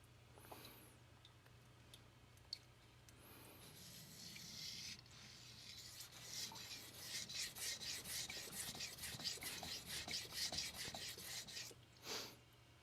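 Knife strokes across a King resin-bonded diamond 1000-grit stone, a steady run of soft rasping, rubbing passes that grow denser and louder toward the end, close up with no talking.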